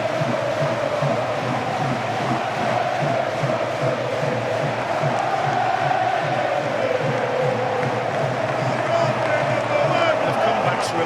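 A football stadium crowd roars steadily and loudly throughout, a dense sustained wall of voices with no pauses.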